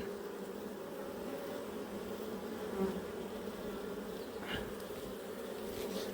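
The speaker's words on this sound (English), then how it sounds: "I've got bees landing all over me now, look." Bees buzz steadily nearby at an apiary, a continuous droning hum with one passing closer and louder for a moment, outdoors with no voices.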